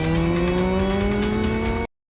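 A motorcycle drives off in a film scene: a loud, close, steady engine drone with rising pitch that cuts off abruptly into silence.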